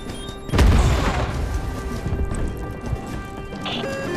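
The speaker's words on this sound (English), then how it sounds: "Heads up, grenade out!" Grenade explosion in the Starship Troopers: Extermination video game, a single sharp boom near the start followed by a rumbling, crackling tail of debris and battle noise that stays loud for several seconds.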